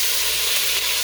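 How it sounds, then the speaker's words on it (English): Loud, steady sizzle and hiss of chicken broth hitting a hot pot with browned pork loin drippings while deglazing. "I'm going to deglaze it using some chicken"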